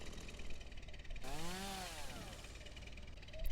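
A video-game chainsaw in Cultivation Jam buzzes in with a sudden rising, whirring revving sweep, mid-loud over a steady game background, then fades back down.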